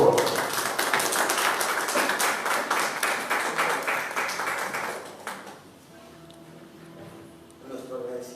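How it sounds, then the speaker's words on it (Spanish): Applause from an audience at an academic talk on sports history in San Pedro Xalostoc, Ecatepec, steady dense clapping for about five seconds before fading out, then a voice begins speaking. "Un fuerte aplauso, por favor."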